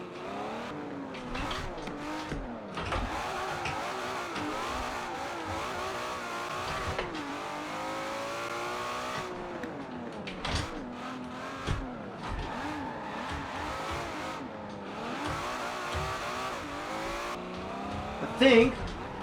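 Engine of a car driven in a racing video game, played on a Logitech G920 wheel mounted on a DIY metal sim racing stand; a steady engine drone shifts pitch continuously through acceleration and braking, with brief tire noise, under ongoing talk.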